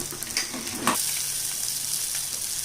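Quail eggs fry in a hot pan with a steady, close sizzle that crackles and spits briefly, constant and alone with no voices.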